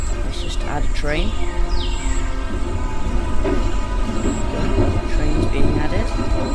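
A roller coaster train rolls into place on the Nemesis ride in a theme park video game, a steady mechanical rumble running throughout with chirpy bird-like squeals and a voice speaking over it.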